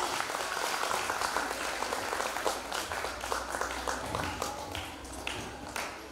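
Audience applause at a pageant selection event, scattered individual claps blending into a continuous patter from a modest crowd, fairly faint and uneven over several seconds.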